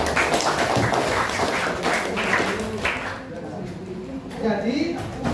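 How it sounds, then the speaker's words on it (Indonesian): A class of students clapping their hands together in a classroom, a dense burst of overlapping claps that tapers off toward the end, with voices mixed in. "Tepuk tangan dulu."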